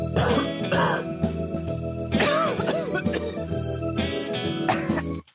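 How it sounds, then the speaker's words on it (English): Several short, harsh coughs and throat-clearing bursts come in quick clusters, close and fairly loud, with brief pauses between them. "It's coughing."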